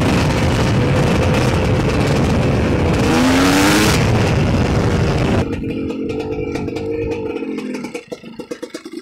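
A GR7 2T Optimum two-stroke motorcycle engine drones loud and close with a rising whine, then settles into a lower rattling idle that breaks into uneven putters at the end.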